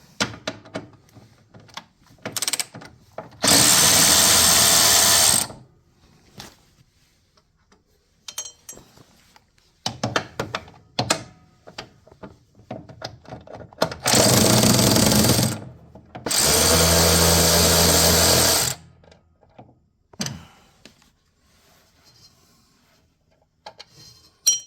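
An impact tool removes bolts from an Ariens 28 Deluxe SHO snowblower in a workshop, firing three loud, close, sustained bursts of whirring and rattling, separated by quieter clicks, clunks and handling noises.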